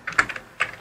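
Quick taps on a computer keyboard while writing in Microsoft Word: a few close, crisp keystrokes in a short burst, then one more after a brief pause, with no voices.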